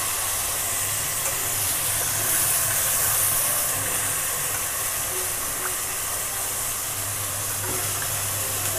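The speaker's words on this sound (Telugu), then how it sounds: "దాన్ని ఇక్కడ తాలింపులో వేసి ఒక్క 2 నిమిషాలు రోస్ట్ చేసుకోవాలి" Soaked rice roasting in a pan of hot seasoning oil for coconut rice, giving a steady, continuous sizzle and hiss that runs unbroken and fairly loud throughout, with no voices.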